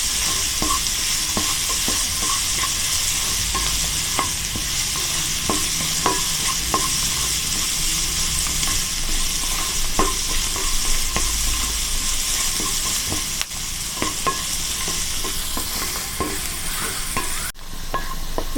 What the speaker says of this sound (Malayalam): ഒന്ന് വഴറ്റിയെടുക്കാം നമുക്ക്